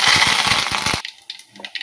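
A loud whirring mixer grinder grinds cumin, mustard seeds and curry leaves for about a second, then cuts off abruptly, leaving faint clinks and small noises.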